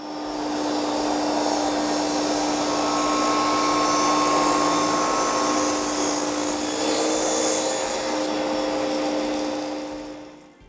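A power saw blade cuts wood for furniture legs, making a loud, steady high whine that holds for about ten seconds before spinning down at the end.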